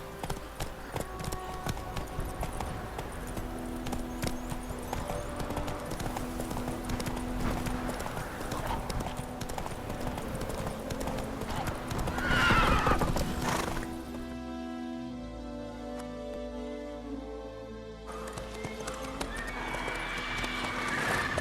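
Roach, the witcher's horse in The Witcher 3 video game, clip-clops along with steady hooves and gives a loud whinny partway through, over continuous game music and ambience, with talk mixed in.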